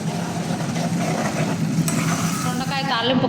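Ivy gourd (dondakaya) fry sizzling steadily in a pan, with stirring scrapes and light clinks of a utensil against the metal running through it.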